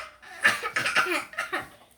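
A person gives a string of short, staged coughs in quick bursts, imitating how someone from England might cough. The coughs are close and fairly loud, with a brief pause in the middle.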